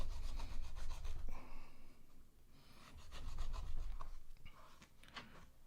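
A very sharp knife saws through tough Dyneema synthetic winch rope for a taper cut, giving close, rough rubbing strokes in uneven bursts with brief pauses, fairly quiet and without talk.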